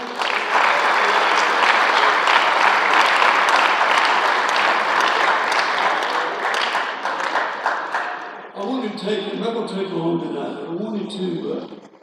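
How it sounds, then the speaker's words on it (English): Loud audience applause at an awards ceremony fills the room for several seconds, dense clapping that thins out into scattered claps as it fades near the end. "let's give them another big round of applause"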